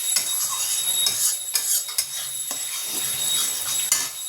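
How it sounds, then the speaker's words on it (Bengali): A spice paste with salt, turmeric and chili powder is stirred and fried in a pan for a shrimp curry. A steady sizzle sits under repeated scraping and clinking strokes of a spoon against the pan. "আর একটু কষিয়ে নেবো, নিয়ে চিংড়ি মাছগুলো দিয়ে দেবো।"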